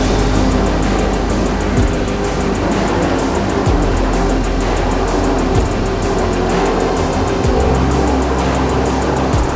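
A racing speedboat's engine held at full throttle, a loud, steady, continuous drone with low rumble and water rushing, sustained through the whole stretch with brief dips.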